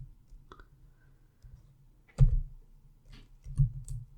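A computer keyboard clicks in a few sparse, separate keystrokes while an SQL query is typed, with short gaps between taps and no voices.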